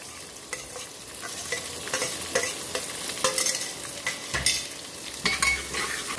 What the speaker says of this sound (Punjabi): ਪਿਆਜ਼ ਹਲਕਾ ਗੁਲਾਬੀ ਹੋ ਗਿਆ ਵਾ, ਜ਼ਿਆਦਾ ਨਹੀਂ ਇਹਨੂੰ ਅਸੀਂ ਭੁੰਨਣਾ।